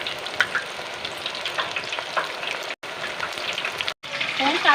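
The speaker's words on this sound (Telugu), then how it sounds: "ఇవి బాగా వేయించొద్దు కొంచెం లైట్గా" Brinjal bajji, batter-coated eggplant slices, fry in hot oil with a steady, close crackling sizzle and scattered pops that swell near the end, with two brief silent gaps.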